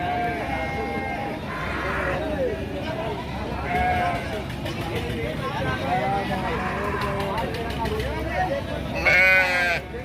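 Sheep and goats bleat repeatedly at the crowded Gangadhara livestock market, several animals calling near and far over a steady hubbub, while a person talks throughout.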